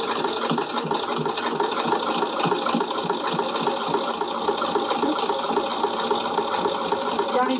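A sewing machine runs steadily, stitching a holding seam to close two fabric pieces of a Paloma pouch, its rapid mechanical whir and rattle continuous and close with no pauses.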